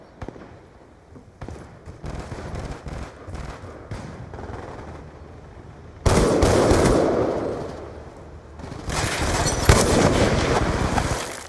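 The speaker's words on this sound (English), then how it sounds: "I've got a big ass LMG." Call of Duty: Black Ops 2 gun game match with a light machine gun firing in loud bursts of rapid automatic gunfire, heaviest in the second half, over game ambience.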